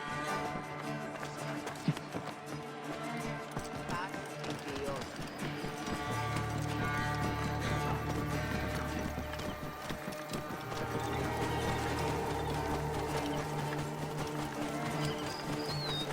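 A horse galloping in Assassin's Creed Origins, rapid hoofbeats drumming steadily beneath a thick bed of music and game sound, with voices speaking at points.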